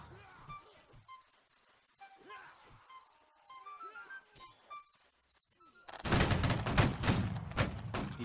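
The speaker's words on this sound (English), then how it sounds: "secondary line of French just firing into the melee, hoping to hit the enemy and not the friendlies." Musket fire from a French line shooting into a melee in the Napoleonic-era game Holdfast: Nations At War. Scattered reports and chirping ambience come first, then a dense, loud volley crackles for the last couple of seconds.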